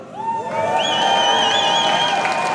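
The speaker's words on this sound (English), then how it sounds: "Can we get some hype from the crowd?" Crowd at a StarCraft 2 tournament grand final cheering and whooping loudly, a sustained roar with high shouts rising and falling over about two and a half seconds.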